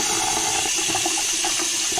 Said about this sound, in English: Look at that, nice hot water.